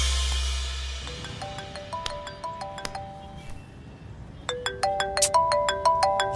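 A phone ringtone plays repeatedly with no answer, a melodic electronic tone cycling in bright bursts after a low rumble at the start, close and clear, and no voices.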